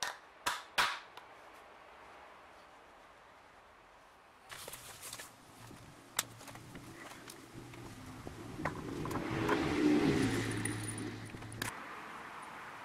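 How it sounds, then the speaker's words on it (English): A tire is inflated until its beads pop into place on the rim: a few sharp pops and clicks early, then a steady hiss of compressed air rising and swelling near the end, fairly close. "I'll make sure both beads pop."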